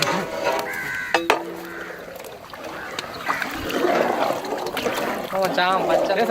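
A crow caws outdoors in a village during outdoor cooking, a few harsh calls rising above nearby water trickling and clattering, with people talking throughout.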